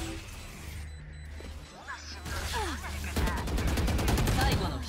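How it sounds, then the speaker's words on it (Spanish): Grenades going off in the video game Valorant amid a burst of rapid gunfire and crashing impacts, loud and busy, with game sounds layered over one another. "Han lanzado dos granadas."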